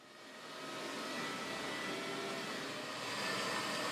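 A carpet cleaning machine vacuuming and pile lifting, its steady whooshing motor drone rising in the first second and then holding loud and continuous, with no talking.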